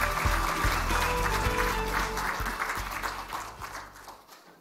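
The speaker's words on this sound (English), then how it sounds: "please welcome him with a big round of applause" Conference audience applauds a keynote speaker at the 2018 BOK International Conference, a steady wash of clapping that gradually thins and fades toward the end, with faint low thumps underneath.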